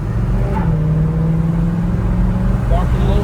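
A Chevrolet El Camino SS 454 V8 engine rumbles and revs up while accelerating, a low, throaty growl heard up close over road noise.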